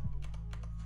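Soft, quick keystrokes on a computer keyboard as a title is typed into video editing software, a few faint clicks over a steady low hum.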